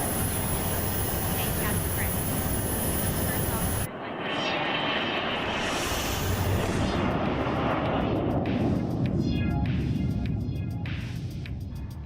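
An EMB110 turboprop in the Microsoft Flight Simulator 2024 game makes a flyby, its loud engine roar swelling and fading over about twelve seconds, with a brief cut partway through.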